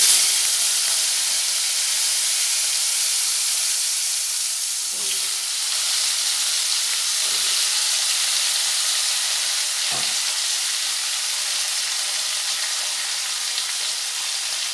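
Long potato sticks sizzle steadily in hot oil, a dense even hiss filling the whole stretch with a few soft knocks of a utensil against the pan.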